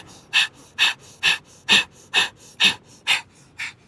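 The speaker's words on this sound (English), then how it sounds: "let's inhale here with breath of fire" Rapid yoga breath of fire during a beach yoga session, eight or nine sharp, evenly spaced nasal exhalations about half a second apart, close and clear with no talking.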